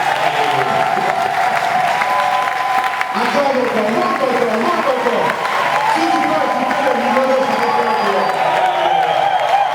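A church congregation at a Sunday service claps and cheers without a break, loud and close, with whoops rising over a dense wash of applause while a preacher's voice carries through it.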